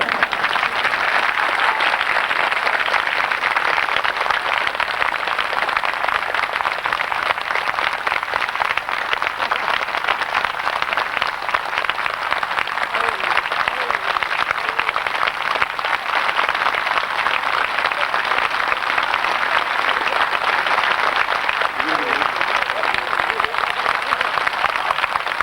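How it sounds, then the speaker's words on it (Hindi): An audience at a Holi festival gathering applauds, a dense, continuous wash of clapping held at an even level for the whole stretch, with a few voices faintly mixed in. "दूसरा पाठ ये है कि आप मुस्कुराते हुए तालियां बजाइए।"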